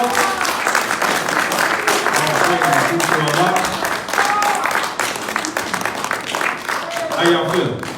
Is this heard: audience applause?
yes